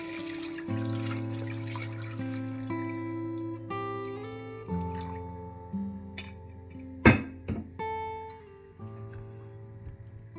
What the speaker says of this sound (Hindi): अब तकरीबन 1 लीटर पानी डालकर उबाल लेंगे।